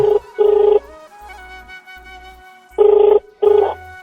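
Outgoing phone call ringback tone: a loud, close electronic ring pulses in pairs, with a quieter steady tone between bursts.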